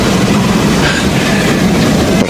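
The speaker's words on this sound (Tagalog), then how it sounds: "Eto, parating yung tren." A train rolls past loud and close, with rumbling wheels and rhythmic clacking on the rails, and a faint squeal near the end.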